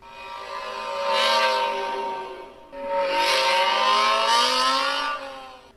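Star Wars speeder bike engine starting and taking off, two long rising whooshing revs with a brief dip between them, loud and close.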